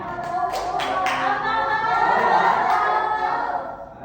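Children in an Indonesian third-grade classroom clap their hands along to a sing-along song, a steady run of overlapping claps mixed with young voices singing through the whole stretch.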